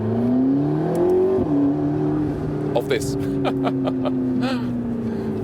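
A McLaren 650S Spider convertible's 650 hp V8 engine revs and drones loudly, pitch rising and falling steadily, with brief crackles; a voice speaks over it briefly.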